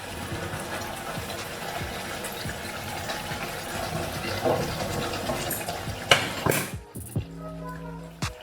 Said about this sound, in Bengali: সামান্য পরিমাণে গরম জল দিয়ে দিচ্ছি।